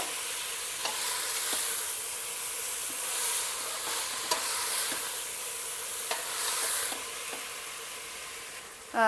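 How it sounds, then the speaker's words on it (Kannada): Steady sizzling of fenugreek leaves frying in a hot pan, with a spatula scraping and stirring at intervals. "ಮೆಂತ್ಯ ಸೊಪ್ಪನ್ನು ಚೆಂದಾಗೆ ಬಾಡಿಸ್ಕೊಳ್ಳೋಣ."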